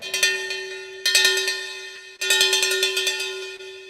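A handheld cowbell rung in three bursts of rapid strikes, close and loud. Each burst is a quick run of clanks that blend into a sustained metallic ring.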